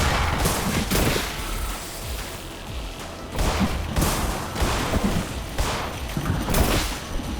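Sustained, loud gunfire from the video game In Sound Mind, with repeated heavy blasts and booms layered into a dense continuous barrage for several seconds.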